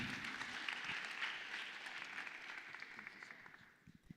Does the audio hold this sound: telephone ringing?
no